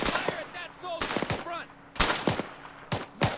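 Rifle gunfire in a Second Korean War video game comes as several sharp, loud single shots spaced irregularly, with someone talking between and over them.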